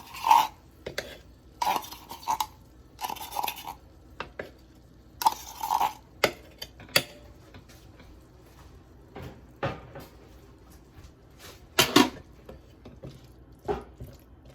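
Vegetable curry with paste being stirred in a pot, a series of short scraping and clinking strokes with pauses between, close and fairly quiet with no talk.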